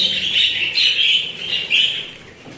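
Pet budgerigars eating keep up a steady, close, high-pitched chatter of overlapping chirps and warbles, with no talking.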